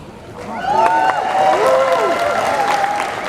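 Convention panel audience at Galaxy Con in San Jose applauding, a dense wash of clapping and cheering that swells and holds, with a voice speaking over it.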